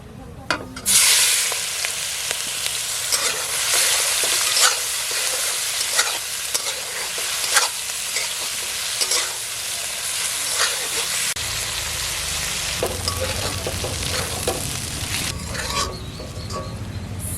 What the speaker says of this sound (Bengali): ভাজার জন্য চিংড়িগুলো দিয়ে দেবো